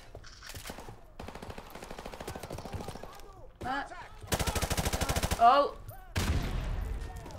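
Bursts of automatic and single-shot gunfire in Call of Duty 4 Remastered, loud rapid volleys separated by short pauses, with a brief exclaiming voice between shots.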